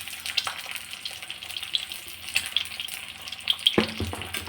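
An egg sizzles and fries in a hot pan with a steady crackle, and there is a louder clatter near the end.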